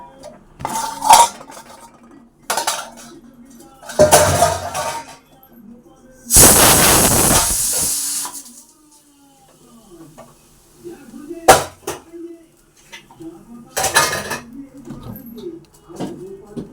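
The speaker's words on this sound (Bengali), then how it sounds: "একদিকে মাছটা ভাজা বসিয়ে দিই আর এইগুলো পরিষ্কার করি" Kitchen utensils clatter and clank in several sharp bursts while fish fries in a wok nearby, with one longer rushing, hissing burst in the middle and a quiet background between the knocks.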